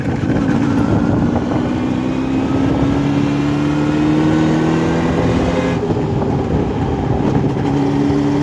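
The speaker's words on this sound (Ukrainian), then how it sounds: "Тому зараз їду до Олексія покатаюсь. трохи на своєму мотоциклі" A Jawa motorcycle's loud engine hums and rises in pitch as it accelerates, with steady droning tones and rushing wind noise throughout.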